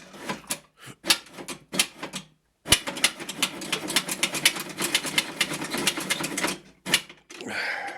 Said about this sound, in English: this tool for giving heat, has an actual inbuilt piece of technology which does the poking for me